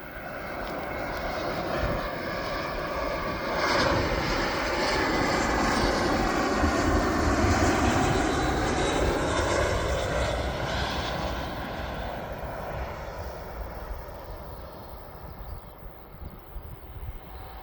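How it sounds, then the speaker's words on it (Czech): A Lufthansa Airbus A320 arriving from Frankfurt lands at Prague airport, its engines a loud, steady broadband roar that swells over several seconds, holds, then slowly fades as the jet passes. "Přistává tady je 320 z Frankfurtu."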